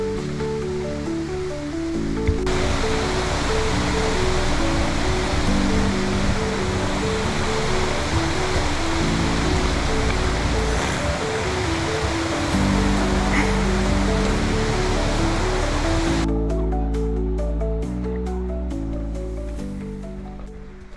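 Waterfall and river in North Devon woodland: a steady, loud broadband rush of falling and flowing water fills the whole stretch, with a low tonal hum underneath and no talk.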